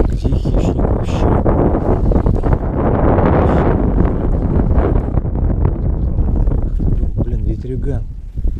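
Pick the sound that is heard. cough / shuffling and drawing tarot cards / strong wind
strong wind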